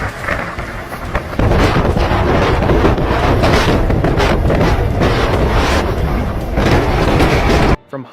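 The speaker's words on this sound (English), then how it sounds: "A massive swarm of tumbleweeds racing across the road like an army, all pushed by the wind's untamed strength." Strong wind roars across an open road and drives masses of tumbleweeds over it. A heavy, continuous gusting buffets the microphone and cuts off abruptly at the end.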